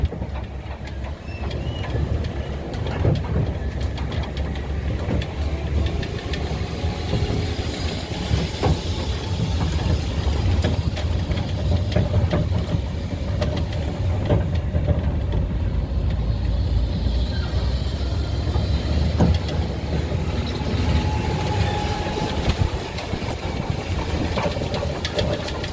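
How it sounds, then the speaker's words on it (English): Visitor tram at Space Center Houston, a steady engine hum and rolling rumble with occasional rattles and clunks, continuous and fairly loud throughout with no talk. "and now onto the tram"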